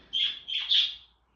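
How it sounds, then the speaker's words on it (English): A pet bird chirps in a few bright, close tweets in quick succession, then falls quiet, with no talking over it. "I'm just showing you the birds."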